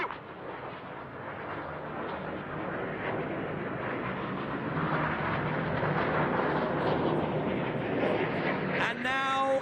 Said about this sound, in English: Their pilots now are building the aircraft up to 400 miles an hour apiece.